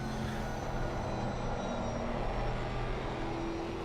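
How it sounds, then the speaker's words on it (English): Race car engine in Assetto Corsa Competizione, driven in VR on an ERA training course, droning steadily and fairly loud at a low engine note throughout, with a broad rumbling hum and no talking. "you can hear the engine note is low"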